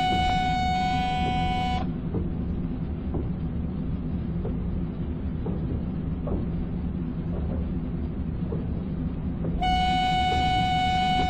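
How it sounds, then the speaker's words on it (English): An AI-driven ICE-1 high-speed train rushes past in Microsoft Train Simulator, a steady loud rumbling roar of wheels and rail noise throughout, with brief high tonal cab hum at the start and end, no talking. "you just saw an AI ICE-1 zooming by"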